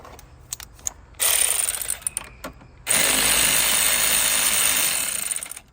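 A ratchet loosens the 10 mm nut on the negative battery cable of a 2012 Chevrolet Cruze, with a few sharp clicks followed by two long bursts of rapid ratcheting, close and loud, with no talking.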